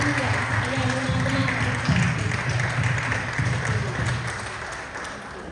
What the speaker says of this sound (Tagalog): The best na palakpak sa Diyos sa buhay!